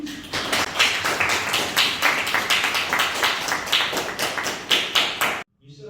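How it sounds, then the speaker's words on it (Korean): A church congregation clapping in a quick, even rhythm, each beat a crisp burst of many hands together, loud and close, stopping abruptly near the end. "우리 제기종 집사님한테 박수 한번 보내드리겠습니다."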